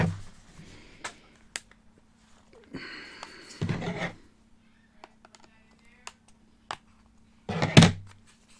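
A drugstore eyeshadow palette is pried open by fingernails, with scattered small clicks and taps, a scraping struggle in the middle and a sharp snap-like burst near the end, close and quiet otherwise.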